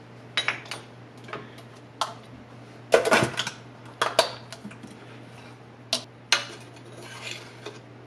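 Dried lemon peel being ground, a series of sharp hard clicks and clatters in irregular bursts, close and fairly loud over a low steady hum, with no talking.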